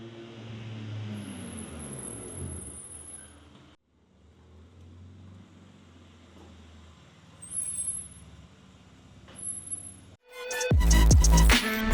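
A BMW M4 (G8x) on track brake pads rolls along a street amid traffic noise, with thin high-pitched squeals, then a loud harsh burst of brake noise close by at the end.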